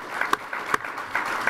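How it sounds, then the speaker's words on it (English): Applause at engineering science senior project presentations, a moderate patter of clapping from the audience with a few sharper claps standing out and a faint tonal ringing beneath. "give a big round of applause for Mr. Sharam Marivani and Ronnie Goodlin"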